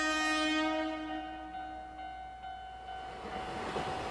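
Train horn at a railway crossing in the game Spirit Hunter: NG, a sustained multi-tone blast that fades as rumbling rail noise builds toward the end; no talking.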